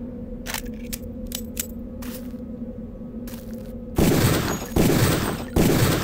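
Several sharp shots crack out in Deus Ex. Light clicks come first, then loud gunfire bursts starting around four seconds in, each ending in a short echoing tail, with no talk.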